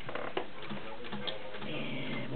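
A vintage Singer 201-2 gear-driven sewing machine running in reverse, a soft steady close mechanical patter and ticking, no talking.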